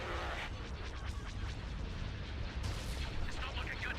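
Turbolaser cannons in Empire at War, Republic at War mod, pound out a dense run of heavy booming blasts that surge again in a louder burst near the end, with voices partly mixed in.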